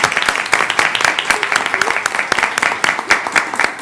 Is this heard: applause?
yes